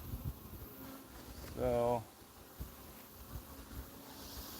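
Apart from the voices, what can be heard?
honey bees at a beehive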